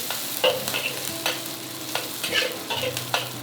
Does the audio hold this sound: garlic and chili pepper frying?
yes